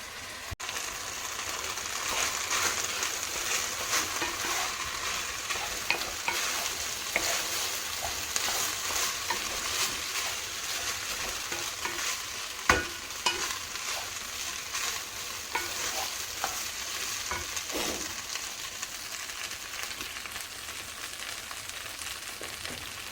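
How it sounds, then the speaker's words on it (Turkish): Meat sautéing in a pan for a Turkish home dinner, a steady continuous sizzle with repeated scraping and stirring clicks from the utensil, fairly close and constant throughout with no talking. "et sote yapacağım"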